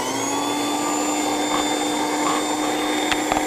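A Viper Sportsman slot car armature motor, a 6-ohm motor, spins up with a steady high-pitched whine and buzz that holds constant throughout, close and loud, with a few faint clicks and no talking.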